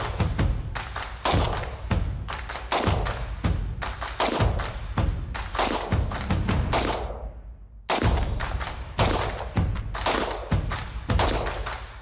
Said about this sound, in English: 10 more rounds of Red Army standard 223 steel case ammo with the muzzle rise eliminator